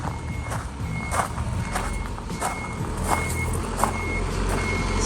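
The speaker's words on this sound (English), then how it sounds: "here's the truck trying to make it up" A truck reverses with its backup alarm beeping steadily in a regular pattern over a low idling engine rumble, heard from moderately close in a residential area.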